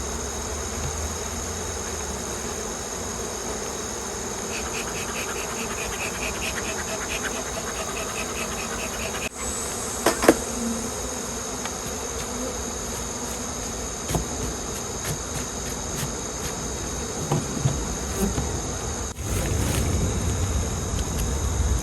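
Honeybees from a caught late-season swarm buzz in a dense, continuous hum close by, with occasional louder passes of single bees and a few soft knocks.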